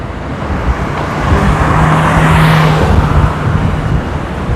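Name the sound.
city bus driving towards Bogor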